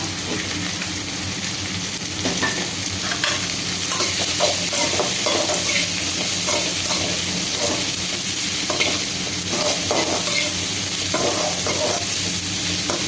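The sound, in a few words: sautéing cabbage and mung beans in a pan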